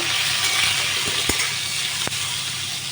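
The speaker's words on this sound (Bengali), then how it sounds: "পটলগুলো দিয়েছি পরিমাণ মতো লবণ, পরিমাণ মতো হলুদ দিয়ে পটলগুলো আমি ভেজে নেব" Pieces of pointed gourd (potol) fry in hot oil with salt and turmeric in a pan, a steady loud sizzle with a couple of sharp clinks of a utensil against the pan.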